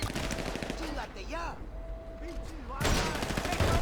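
Gunfire in the video game GTA Online, loud shots and bursts crackling over a steady game backdrop, with a brief quieter lull in the middle before heavy firing resumes; a voice speaks in the background.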